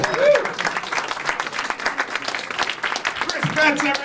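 An audience applauds after a stand-up comedy set at an atheist de-baptism show, dense sustained clapping from a crowd throughout, with a voice speaking over it.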